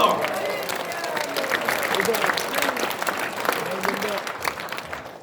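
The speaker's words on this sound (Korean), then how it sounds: "박수 한 번 주십시오." Audience applause at a Korean lecture, a dense wash of clapping from a crowd, steady and loud, fading slightly toward the end with voices mixed in.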